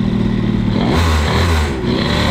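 KTM 65 SX motorcycle engine on a street test during break-in, buzzing loudly and continuously at close range as a quick throttle blip lifts the revs midway before settling back.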